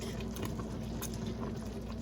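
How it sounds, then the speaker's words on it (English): Canning jars sit in a water bath canner being sterilized before blueberry jam goes in, the water at a steady rolling boil with a constant bubbling hiss and faint rattles, close by. "I put the jars in there to sterilize, so they're ready to go. And they're sitting there boiling away."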